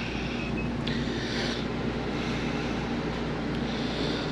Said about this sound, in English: We're sitting out here with no shade and the motor's just idling.